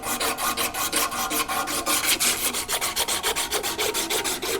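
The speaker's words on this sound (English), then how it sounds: "So I'm going to back down to 150 and just start sanding up from there." Hand sanding a Craftsman paint pressure pot with 150-grit sandpaper, a steady rhythmic rasping of quick back-and-forth strokes, close and fairly loud, with no voices.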